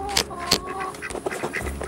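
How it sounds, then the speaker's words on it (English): Ducks quack repeatedly outdoors on a farm, a busy run of short, nasal calls close by, with faint talk mixed in. "The ducks are having a ball."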